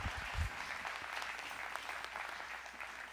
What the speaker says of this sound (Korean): 우리 다시 한번 뜨겁게 박수 해주시기 바랍니다.